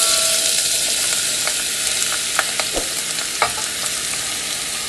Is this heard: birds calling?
no